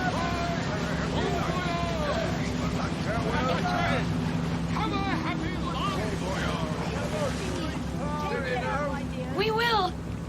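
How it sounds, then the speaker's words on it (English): Ship engines run with a steady low drone and constant rumble throughout a radio drama, with voices talking over it most of the way. "Listen, the engines are starting again."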